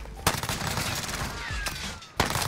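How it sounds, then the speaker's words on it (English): Gunfire in the Warzone battle royale shooter, with sharp loud shots at the start and end and one further off in the middle over continuous game noise. "I was shot at."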